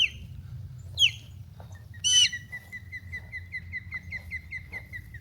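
A bird gives sharp, high squawking calls at intervals, followed by a rapid series of repeated piping notes, fairly close over a low background rumble, at Lake Toho on a hot day.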